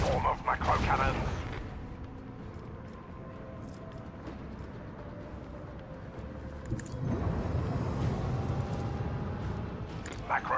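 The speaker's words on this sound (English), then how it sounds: "Unleash the storm of macro-cannons." Macro-cannons fire in the video game Warhammer 40,000: Rogue Trader, deep rumbling booms and heavy blasts swelling at the start and again later over a continuous low roar of battle ambience.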